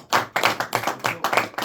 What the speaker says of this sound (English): shall we give Isabella a round of applause